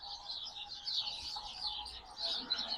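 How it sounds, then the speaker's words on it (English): Birds chirping and calling from a roost overhead in a small-town street, a steady bright twitter of many small voices with soft traffic-like hum beneath, fairly faint and continuous. "Got the birds roosting above."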